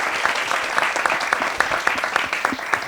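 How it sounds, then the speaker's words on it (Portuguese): Studio audience applauding for musical guests on a TV talk show, a steady wash of many hands clapping throughout with no one talking over it. "Palmas para os caras."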